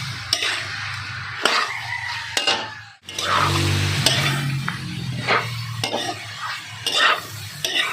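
Pork browns and sizzles in a pan for Filipino kaldereta, with a steady close frying hiss broken by repeated clanks and scrapes of a spatula stirring against the pan.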